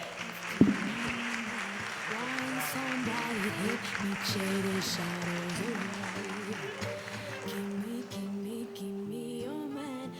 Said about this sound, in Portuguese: Uma salva de palmas aqui, pessoal.